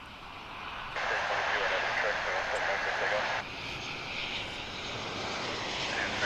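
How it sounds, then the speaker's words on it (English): An airliner passes by at DFW International Airport with a loud broad engine roar that rises and then settles into a steady rumble, heard under someone talking. "Comes another plane through your view."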